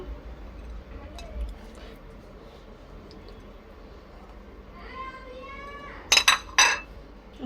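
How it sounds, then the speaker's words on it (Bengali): Crushed jackfruit seeds are scraped and spooned onto a plate, with a few soft knocks and then a quick run of bright, ringing clinks of utensil on dishware near the end, close and distinct. "দেখো কাঁঠালের বিচিগুলো গুঁড়ো করা হয়ে গেছে, এখন প্লেটে তুলে নিচ্ছি।"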